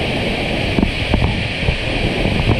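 Running water rushing steadily at Zomba, Malawi, a loud continuous broadband wash with light wind buffeting and a few soft knocks.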